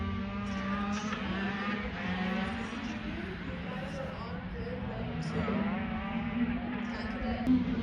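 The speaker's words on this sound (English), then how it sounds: "Here they come down the front stretch." Shifter karts race down the front stretch of a kart track, their engines a continuous buzzing drone that rises and falls as they pass, heard at a distance with a voice talking over it.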